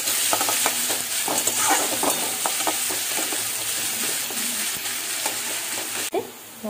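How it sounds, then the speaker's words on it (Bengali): Onions stirred and fried in hot oil, a steady close sizzle with repeated scraping strokes of a spatula, cutting off sharply near the end. "পেঁয়াজটা ছেড়ে দিচ্ছি, পেঁয়াজটা নাড়াচাড়া করে একটু লাল লাল করে ভাজা হয়ে গেলে মশলাটা ছেড়ে দেবো"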